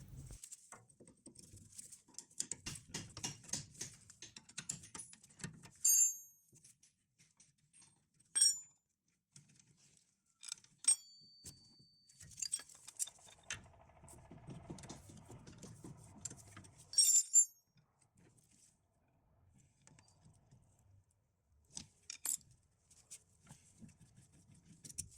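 Wrenches clink and rattle against metal bolts as a rear brake caliper is unbolted from its mounting bracket on a Renault Trafic van, sounding as close, intermittent ratcheting and tapping with quiet pauses between bursts.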